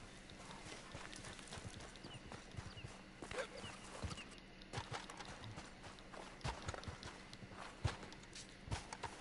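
Horse hooves clip-clop in a PS4 video game, a fast run of sharp, irregular hoof strikes close by, with a faint voice now and then underneath.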